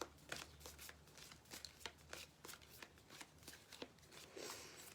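A deck of cards being shuffled for a new moon ASMR card reading, with repeated crisp riffling bursts in an uneven rhythm, close and fairly quiet, without any talking.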